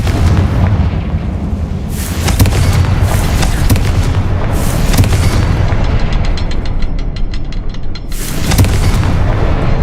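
The Confringo spell explodes in Hogwarts Legacy as a dense, loud roar of booming blasts that swell again around every couple of seconds over continuous rumbling, with no pause.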